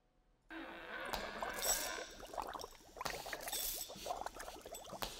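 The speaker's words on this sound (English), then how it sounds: "Here's some of the sound effects of the bubbling and things and like the chains and stuff that are all jingling and jangling" Sound effects from the Monster Mash, with bubbling liquid and jingling, jangling chains: a dense, steady stream of gurgling pops and metallic clinks at moderate loudness, rising in a few swells after a brief silent start.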